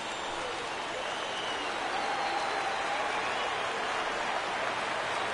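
Stadium crowd in the MLB The Show 16 video game, a steady and fairly loud wash of cheering and applause that holds evenly throughout the clip.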